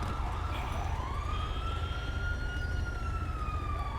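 Ambulance siren in a city roleplay video game, a loud continuous wailing tone that rises and falls slowly over steady background rumble, with no talking.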